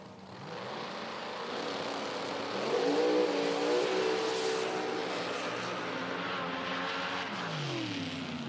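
A 1958 Chevy Corvette roars down a drag strip at an IHRA nitro event, its engine note rising and sweeping in pitch as it accelerates, loud and continuous with crowd-like background noise throughout.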